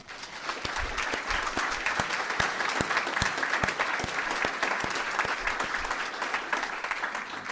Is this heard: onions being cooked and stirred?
no